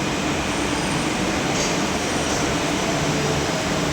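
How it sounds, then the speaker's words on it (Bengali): A constant loud rumble and rush of a Kolkata Metro train running into a station on the Noapara–Airport line, steady throughout with a faint high whine above. "এখন আমাদের মেট্রো ঢুকছে"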